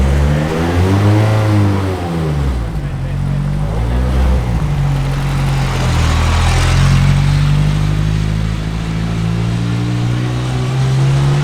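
A BAC Mono track car heads out onto a very wet Spa Francorchamps circuit, its engine loud and close as the revs climb and fall repeatedly through gear changes.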